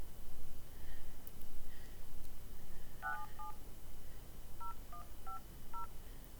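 Telephone keypad dialing tones beep in a short series of distinct, evenly spaced electronic tones over a steady background hiss, with no voices.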